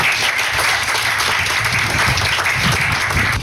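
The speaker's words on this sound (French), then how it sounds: "sous vos applaudissements, s'il vous plaît." A crowd at an inauguration ceremony for a new water utility office in Plaine des Cafres breaks into steady, loud applause, dense clapping that holds at an even level throughout without letting up.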